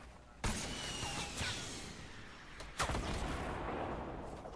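Rocket launcher fire in the video game Fortnite: two loud, booming blasts a couple of seconds apart over a steady rumbling background, with the first the stronger.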